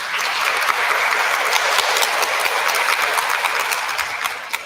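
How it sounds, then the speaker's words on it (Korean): Sustained applause from an audience at an artist talk in an art museum in Daegu, steady and fairly loud throughout, with no voices over it. "많은 박수 부탁드립니다."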